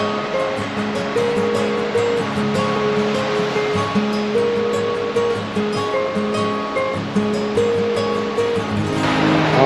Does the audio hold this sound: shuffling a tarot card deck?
no